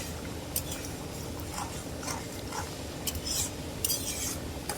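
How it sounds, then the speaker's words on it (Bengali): A spoon scrapes and stirs pangas fish roe curry in a pan, soft repeated rubbing strokes with a few brighter clinks against the metal, faint and close with no talking. "একটু লাড়া দিয়ে দিব"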